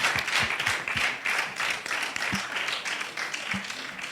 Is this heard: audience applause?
yes